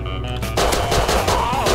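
A rapid burst of loud, close automatic gunfire from the video game Rust erupts after a brief quieter lead-in, with sharp repeated shots running to the end.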